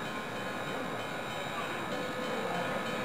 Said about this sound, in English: The train to the beach is ready to leave.